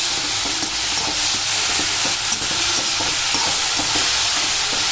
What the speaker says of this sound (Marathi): व ती ही तेलामध्ये साधारणतः एक 5 मिनिट छान अशी भाजून घ्यायची